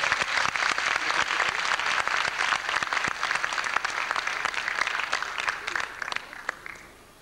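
Dense audience applause in a concert hall after an amateur band's debut performance, loud continuous clapping that fades out toward the end.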